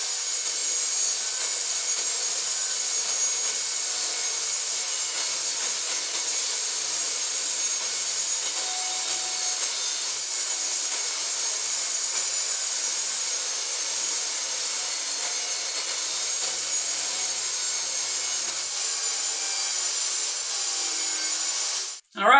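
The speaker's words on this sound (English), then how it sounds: "Now we're going to rip 1/4 inch from each side of this board." A saw rips a quarter inch off the edge of a wooden fence picket board in one long, steady whine that holds its pitch for the whole cut and then stops abruptly at the very end.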